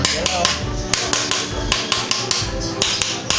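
Repeated sharp metallic hammer blows on a motorcycle part during a repair on the magneto side, struck in a quick, fairly regular rhythm at close range.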